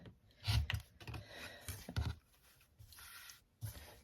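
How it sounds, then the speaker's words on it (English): A rotary cutter run along a ruler trims excess fabric for a spring quilted mug rug, giving a few short rasping cuts close by between quiet pauses. "I'm going to take my ruler and my rotary cutter and just trim the little bit"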